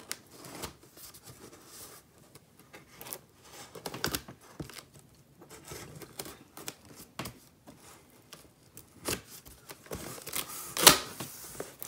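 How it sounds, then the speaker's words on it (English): Cardboard box holding a shipment of 30 K-pop albums is cut and torn open: scattered scraping, slicing and crinkling noises come in irregular bursts, with a sharper rip near the end, no talking. "Okay, time to cut open this box."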